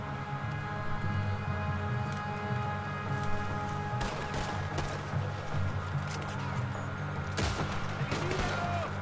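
Repeated booming blasts of cannon fire in Red Dead Redemption 2 during the Guarma escape, one sharp burst standing out, over a steady dense rumble of engine and action noise.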